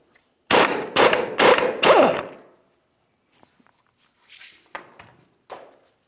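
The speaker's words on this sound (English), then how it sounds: "This is easiest using an impact tool." Four rapid hammering bursts from an impact tool on the pitman arm mounting nut of a 2007-2014 GMC Sierra 2500 HD, loud and close, followed by quieter clicks and metallic handling sounds.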